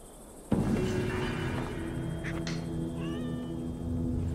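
A cat meows in Assassin's Creed Valhalla, a drawn-out, wavering caterwaul that rises and falls over a steady game ambience, with a few short sharp accents along the way.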